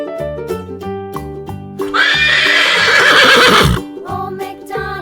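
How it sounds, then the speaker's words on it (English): A horse gives one long, loud neigh up close that rises and trembles for about two seconds. A cheerful children's farm song plays before and after it. "Horse."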